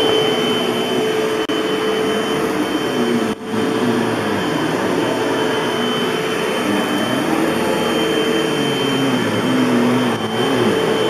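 A Hoover Elite Rewind bagless upright vacuum cleaner runs steadily on carpet, a loud, close, continuous whine and roar with a brief dip partway through.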